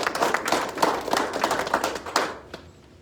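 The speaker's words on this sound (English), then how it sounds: "let's give those folks a round of applause" Audience at an Iowa government water infrastructure announcement applauding, steady close clapping from a modest crowd for about two and a half seconds before it fades out.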